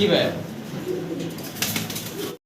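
Pigeons at a pigeon farm give a few soft coos, with a flutter of wings near the end, while someone talks over them.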